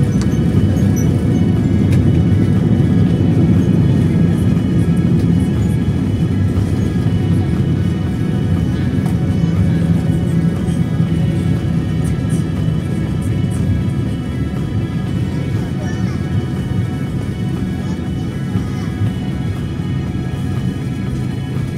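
Continuous loud low roar of an airliner on its landing roll at Taipei International Airport after touchdown, heard from inside the cabin as a steady broadband rumble with no distinct thump standing out.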